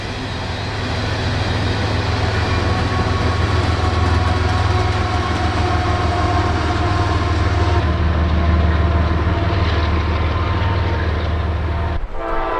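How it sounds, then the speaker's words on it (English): An empty coal train with an end-of-train pusher locomotive rolls past on the Nahunta subdivision near Folkston, a loud, steady rumble of wheels and engines with a horn sounding, continuing close by until it cuts off abruptly near the end. "As usual for coal trains, it had an end-of-train pusher."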